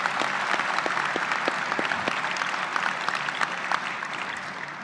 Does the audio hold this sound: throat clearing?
no